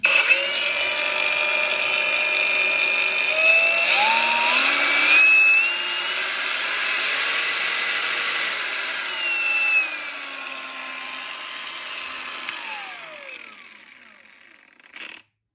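Einhell cordless angle grinder spinning at its minimum speed setting, a steady whine with the pitch sliding up and down in the middle, running alone for about fifteen seconds before winding down and stopping.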